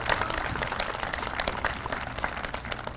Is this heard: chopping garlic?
no